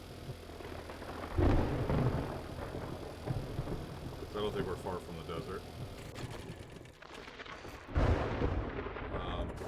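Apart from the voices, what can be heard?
thunderstorm in a survival video game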